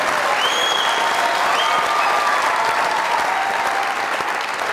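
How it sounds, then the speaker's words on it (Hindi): A studio audience at a comedy talk show breaks into loud, sustained applause, a dense wash of clapping with a few faint whistles over it. "इनके नेचुरल होने पे जोरदार तालियां।"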